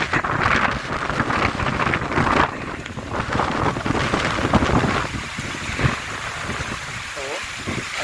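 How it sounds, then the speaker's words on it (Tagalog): Strong typhoon wind from Typhoon Aghon in Santa Cruz, Laguna buffets the microphone with loud, roaring gusts, and a voice can be heard briefly under the rushing noise. "ang lakas ng hangin dito"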